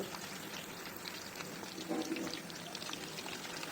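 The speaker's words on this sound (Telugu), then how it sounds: "చక్కగా వేగుతున్నాయండి" Chicken pieces frying in oil over a low flame, a steady soft sizzle and crackle with a faint burst of bubbling near the middle, continuous and fairly quiet throughout.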